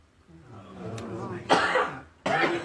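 A few people in a gathering cough in turn, two harsh close bursts over a murmur of crowd noise.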